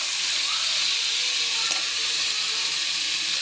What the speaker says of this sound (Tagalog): Nagigisa natin yung chicken guys. Haluin lang natin yan guys.